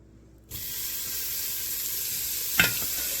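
Bacon lardons are tipped into a hot pan and begin browning with a wooden spoon. A steady, loud sizzle starts abruptly and holds, broken near the end by one brief scrape and clatter of stirring.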